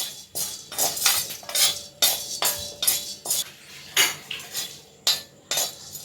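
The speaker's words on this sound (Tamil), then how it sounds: "வெறும் கடாயில் போட்டு வறுக்கணும்" Chana dal dry-roasting in an empty pan for rasam podi, heard as a series of close, bright metallic scrapes and clinks of a spoon against the pan, coming in quick irregular strokes with short pauses between them.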